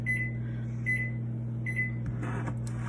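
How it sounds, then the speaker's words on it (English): A running microwave oven hums loudly and steadily, with a constant low drone, faint high beeps recurring and a few clunks near the end; no one speaks. "Now I'm gonna go mix what's in the microwave and then put it in for another 30 seconds."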